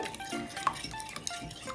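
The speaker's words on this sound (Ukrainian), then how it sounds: "Гарно все перемішую просто ложкою" Faint scraping and soft clinks of a spoon stirring zucchini pancake batter of eggs, sugar and dried garlic in a bowl, brief and quiet, with no talking.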